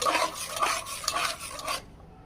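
Spoon stirring salt and chicken powder into a pot of white sauce for macaroni, a close, steady scraping swirl with faint sizzle underneath that stops abruptly near the end.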